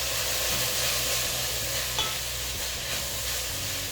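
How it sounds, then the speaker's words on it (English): Turmeric powder and curry leaves stirred into frying masala in a pan for a Kerala black chana curry; a close, steady sizzle runs throughout with the soft scrape of mixing and one faint tap midway. "some turmeric powder, some curry leaves, and give it a good mix."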